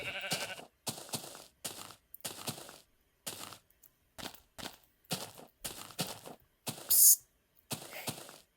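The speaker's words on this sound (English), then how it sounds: "I think there's actually sheep up here, right?" Repeated short bleats from sheep in Minecraft Beta 1.7.3, about a dozen evenly spaced calls separated by silence, clear and moderately near.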